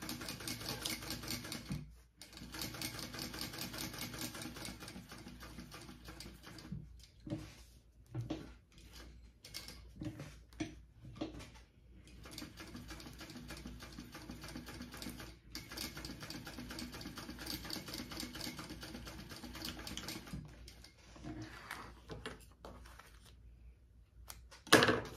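Sewing machine stitching down both sides of a seam on a Pachira bag's fabric panel, a steady close mechanical patter running in long bursts with brief pauses between passes, no voices.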